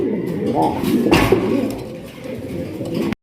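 Racer pigeons coo in a loft, low throaty warbling calls rolling continuously at close range with a brief brighter flutter near the middle, amid general bird noise.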